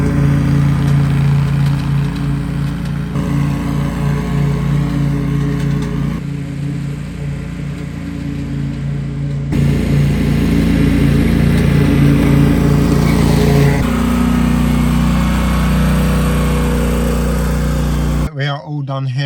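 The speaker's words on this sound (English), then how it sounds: "Ash is already mowing" A lawn mower runs steadily close by during garden mowing, a continuous droning engine hum that shifts pitch and load a few times, with a voice talking over it.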